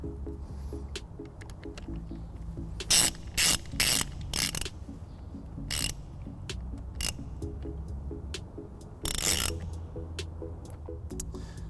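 Tightening a trailer wiring fuse holder on a 2012 Dodge Grand Caravan produces a run of short, close ratcheting clicks in bursts over a quiet background hum.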